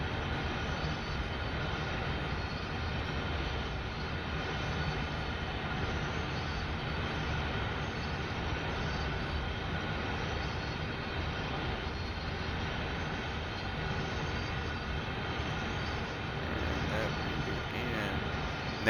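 A loaded coal train in Train Sim World 5 rolls past near Cresson, a long, steady, heavy rumble of wheels and wagons that holds unbroken throughout.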